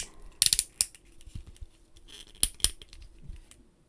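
Ratcheting plastic hip joints of a Bane action figure click as the legs are moved, giving a few sharp close clicks in two small clusters with faint creaks and handling between them.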